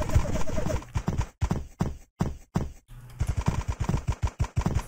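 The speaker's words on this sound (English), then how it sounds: "Somebody's shooting a lot of paint at me." In the Greg Hastings Paintball video game, paintball guns fire in rapid bursts of close, punchy pops with short pauses between volleys, loud and rhythmic with no talking.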